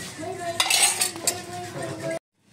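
Roasted almonds shifted and stirred in a metal kadhai, a steady rattling clatter with a few sharper scrapes, close and fairly loud, stopping abruptly near the end.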